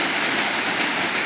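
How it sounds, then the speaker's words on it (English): Kachang Waterfall near Banlung in Ratanakiri, Cambodia, recorded from the bottom of the falls during a lower-flow season: a steady, close, full-band roar of falling water that stays constant throughout, with no voices. "the local people say this is not a big waterfall, but I think it's still very, very nice"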